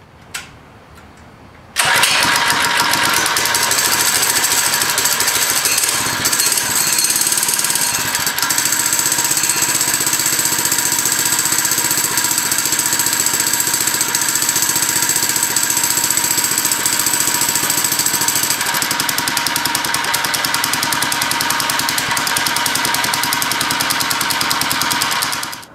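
After a short quiet moment, a Harbor Freight Predator engine on a minibike fitted with an NGK spark plug starts up and runs at a loud, steady chugging idle for a long stretch close by.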